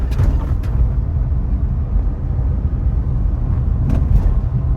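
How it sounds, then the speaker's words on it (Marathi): A small car's engine idles smoothly at close range, a steady low rumble holding even throughout with a couple of faint clicks near the start and end, no speech. "आता एकदम मस्का चालते आपली गाडी"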